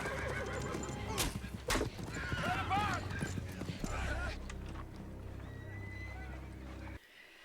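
Horses in a Game of Thrones episode (Season 3, Episode 9, 'The Rains of Castamere') whinny and neigh amid busy clip-clopping hooves, close and fairly loud over a rumbling background before cutting off abruptly near the end.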